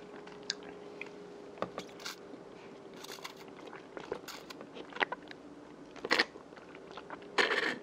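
Close, soft chewing of a Gong Cha bubble tea with tapioca pearls and crunchy cookie pieces, crunches and squishes spaced irregularly against a quiet background, with no talking.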